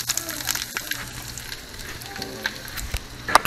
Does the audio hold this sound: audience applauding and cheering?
no